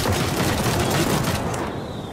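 A futuristic battle tank turret fires rapidly in the Trailmakers video game, a dense, loud burst of shots with booms that blur together for about two seconds before easing off.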